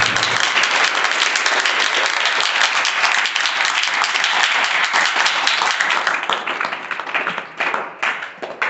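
Loud, dense applause from an audience opening a maths class, steady clapping for about seven seconds before thinning and tapering off near the end.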